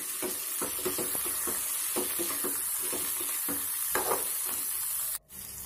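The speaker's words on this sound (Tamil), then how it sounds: "தக்காளி சேர்த்ததுக்கப்புறம் நல்லா வதக்கிக்கோங்க." Bitter gourd and chopped tomato sautéing in a pan, with steady close sizzling and repeated rhythmic stirring scrapes, then a brief drop near the end.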